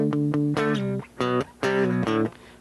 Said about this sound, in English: that will give me my rock chord sound